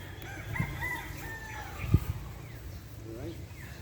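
Gamecock roosters crow and cluck at a game farm, fairly faint and somewhat distant, with people talking nearby and a steady outdoor background.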